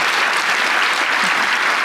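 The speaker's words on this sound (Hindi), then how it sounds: "ताली बजा लो बेटा, अच्छी बात।" Studio audience applauding on a comedy talk show set, a dense, steady wash of clapping that stays loud and even from start to finish.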